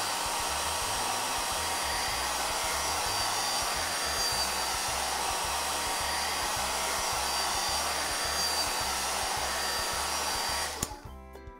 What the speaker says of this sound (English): now let me use this blow dryer